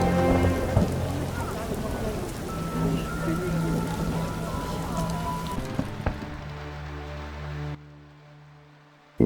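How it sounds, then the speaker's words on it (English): Heavy in-game downpour in The Witcher, a dense steady hiss of rain with low rumbling thunder running loud and continuous before tapering off near the end. "Some serious rain."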